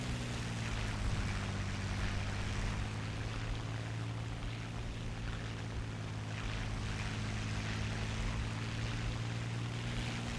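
A propeller fighter plane in the War Thunder video game drones with a steady, loud engine tone and strong low harmonics, holding constant throughout without talk.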